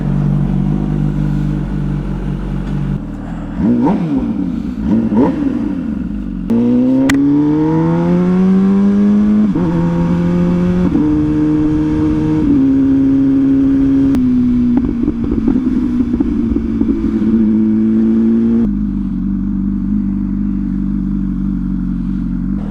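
A Suzuki SV1000 motorcycle with aftermarket mods rides off, its loud V-twin engine rumbling close by, revving and shifting up through several gears with rising and falling pitch, then settling into a steady cruise.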